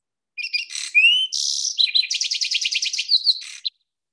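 A Lark Sparrow sings alone and close: clear whistled notes and slurred chirps, then a fast run of buzzy trilled pulses with mimicked phrases, ending in a short final note.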